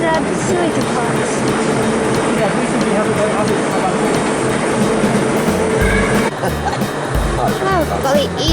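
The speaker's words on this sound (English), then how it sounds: "There's a freight train." A model freight train with sewage wagons rumbles and clicks steadily along a large model railway layout near a viaduct over the River Calder. Visitors talk over the continuous running noise.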